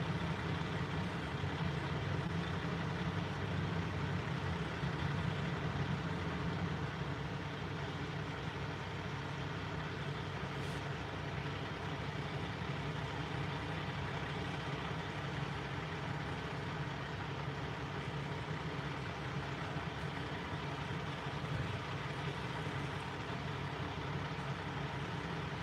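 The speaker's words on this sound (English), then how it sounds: "There are a lot of trucks behind me" A line of trucks sits idling at a roadblock near SpaceX Starbase in Boca Chica, Texas, a steady low engine rumble holding level throughout with no talking.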